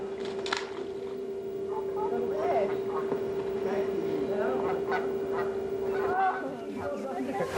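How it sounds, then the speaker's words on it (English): Two pairs of Canada geese fighting over territory outdoors, giving repeated harsh honks and squawking calls over a steady droning hum. "2 pairs of Canada geese provided the highlights of the trip as they battled over territorial rights"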